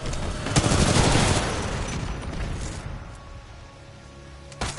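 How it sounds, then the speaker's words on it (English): Bots in Titanfall 2 fire sniper rifles in a burst of loud, close gunshots, which fade into a quieter rumble and then end on one more sharp crack. "Some bots sniping at us."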